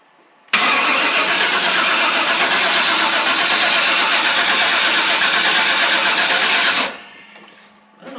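A worn Chevy 350 V8 with 258,000 miles cranks over on the starter in one long, loud, steady churning run of several seconds without firing, then stops.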